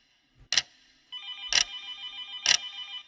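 A telephone rings in a quiet room, three sharp strikes about a second apart with a trilling bell tone sustained between them, clear and fairly close.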